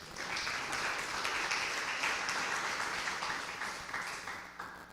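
A church congregation claps together during a Portuguese-language service, a steady, dense wash of applause that runs unbroken for about five seconds at moderate distance with no voice on top.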